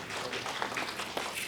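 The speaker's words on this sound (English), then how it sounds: "A big round of applause for this." Brief applause from an audience at a judges' conference, a dense patter of clapping at moderate distance that stays even over its short span.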